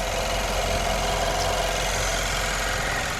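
A Nissan Juke engine idles steadily with a brand new turbo fitted, a continuous, loud, close hum and whir with a fine hiss, unbroken for the whole stretch.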